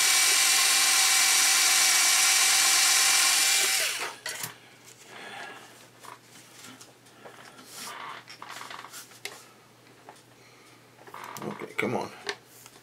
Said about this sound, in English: Get my drill bit right in the center of the hole.